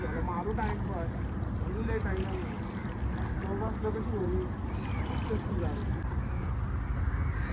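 A boat moves through mangrove creek water on a crab-hunting trip, making a steady close wash and rumble that runs the whole time. People talk over it.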